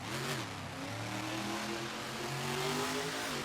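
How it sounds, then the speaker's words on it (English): A custom Shake Me monster truck engine revs hard and steadily during a freestyle run at an arena show, a loud, sustained, fairly close roar with rising and falling pitch. "Nice big air with that custom Shake Me truck."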